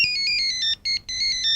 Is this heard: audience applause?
no